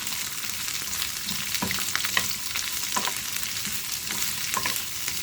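Chicken pieces sizzle steadily in a pan for a jalfrezi, with a wooden spoon scraping and turning them now and then, close and continuous with no talking.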